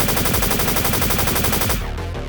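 A splinter cannon fires in a loud, fast continuous burst of rapid gunfire, the rattling shots running without pause before cutting to a brief tail.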